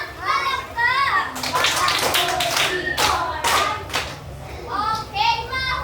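Schoolchildren in a classroom clap together in a burst of rhythmic claps, accompanied by children's and teacher's voices chattering before and after the clapping.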